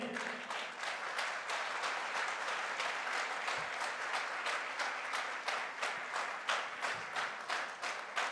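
Audience at a direct selling success event in Goa claps steadily for several seconds, a dense even patter of many hands with a few sharper individual claps standing out.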